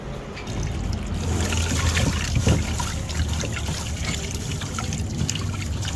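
Saho seaweed being rinsed by hand in water gives a continuous close sloshing and trickling, with splashy churning and small drips throughout and no talking.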